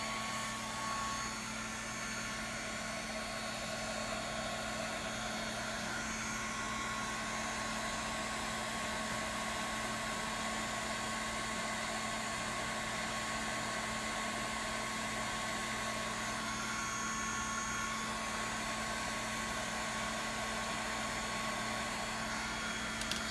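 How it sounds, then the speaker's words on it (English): A heat gun blows hot air onto a data logger temperature probe, producing a steady, even whooshing hum with a faint motor whine that runs unbroken and fairly quiet throughout. "I'm going to use a heat gun"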